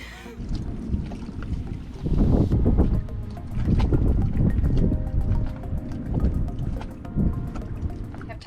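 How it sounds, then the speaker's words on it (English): Wind buffets a sailboat riding at anchor in a rolly spot: continuous low rumbling gusts swell and ease, with water and boat noise mixed in and no talking. "Yeah, it's been really windy."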